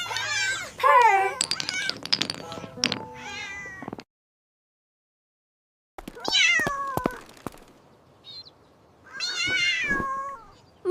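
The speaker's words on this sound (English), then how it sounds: "Meow. Meow." A kitten and a mother cat meow in a run of close, high-pitched cries with wavering pitch, first several in a row, then a silent pause, then more drawn-out meows.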